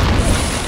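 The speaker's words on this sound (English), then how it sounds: "Pretty much sums up Greek 393's game in one explosion" A wartime explosion rumbles in the strategy game Men of War: Assault Squad, a dense, loud, low boom filling the short moment with broadband roar.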